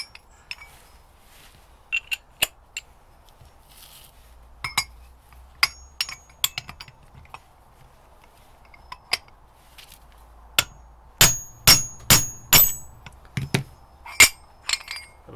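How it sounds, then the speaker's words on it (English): A Land Rover 110 hub bearing housing is knocked out by hammering on a 24mm socket. Scattered light metallic clinks and taps lead into a run of about five loud, ringing strikes close by near the end, with no talking. "So now I've got to knock out the bearing housing here."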